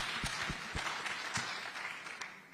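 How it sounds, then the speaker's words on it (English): Light clapping from a summit audience, a few distinct claps standing out over a soft, steady patter at a distance, fairly quiet throughout. "let's clap for her"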